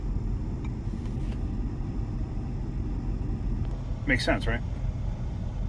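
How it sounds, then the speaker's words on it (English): A modern engine idles with a steady low rumble that is not perfectly smooth, running continuously while a person speaks briefly over it. "They don't have the smoothest idle in the world, but this thing runs as expected."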